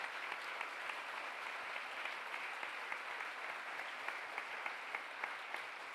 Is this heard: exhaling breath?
no